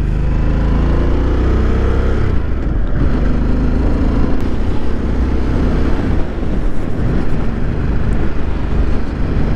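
A 2021 Harley-Davidson Sportster S motorcycle riding along, its engine a steady low rumble blended with heavy wind rush over the microphone, loud and continuous throughout.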